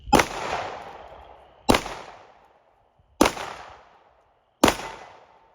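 Four loud, evenly spaced Canik SFX Rival pistol shots ring out close by, each a sharp crack followed by a fading echo, with brief silence between them.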